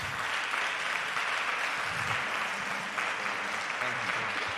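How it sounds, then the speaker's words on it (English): Audience at a green team summit applauds, a steady, continuous wash of clapping from a room full of people, moderately distant and unbroken for over four seconds. "How about a round of applause?"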